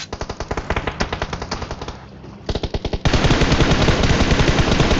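Rapid automatic gunfire from a PUBG Mobile team fight rattles in loud bursts, pausing briefly before a denser, continuous volley of overlapping shots takes over.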